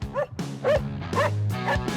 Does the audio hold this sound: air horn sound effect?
no